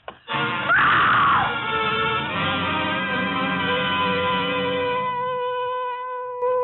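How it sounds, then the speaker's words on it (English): A woman's loud, sustained scream in a 1950 radio suspense drama, rising sharply near the start and then holding at full volume for several seconds before tapering off, with no talk over it. "It was a good loud scream."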